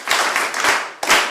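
Hands clap in a school setting, a burst of claps that dips briefly near the end and then swells again, close and fairly loud with no talking.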